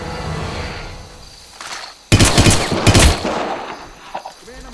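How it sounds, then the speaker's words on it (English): A loud burst of rapid automatic gunfire in the shooter game Hitman: Absolution erupts after a quieter stretch, a dense volley lasting about a second, followed by scattered shots and thuds. "Command, I'm hearing gunshots."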